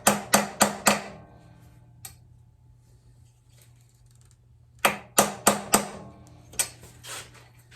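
Sharp metallic hammer blows on Yamaha XJ900 motorcycle forks in two quick bursts of four or five strikes each, close and loud, separated by a quiet pause with a faint hum.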